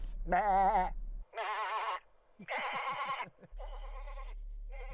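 A person imitates a lamb's bleat several times in a row, quavering and nasal, each call a second or so long with short pauses between.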